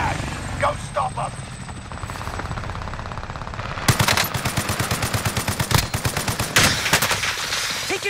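Gunfire in Call of Duty: Modern Warfare, where a loud rapid automatic burst hammers in a steady rhythm over a droning helicopter, with scattered earlier shots and game voices mixed in.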